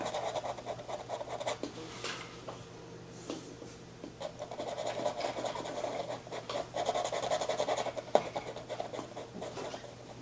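Dry paintbrush scrubbing a very thin layer of white paint, giving a soft, continuous close-up rasping scratch with small irregular strokes and brief brush taps throughout.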